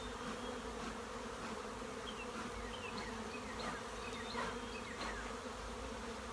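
Honeybees buzz densely around a hive being smoked during a queen castle start-up: a steady, close, continuous drone with many overlapping wingbeats and no voices.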